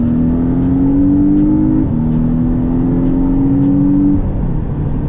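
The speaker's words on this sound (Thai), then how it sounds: "เราลองปลับเกียร์ 2นะครับ" A 2017 Porsche 718 Boxster with a PDK dual-clutch gearbox accelerating, its engine drone rising in pitch, dipping briefly at a gear change, then climbing again, loud and steady with no talk.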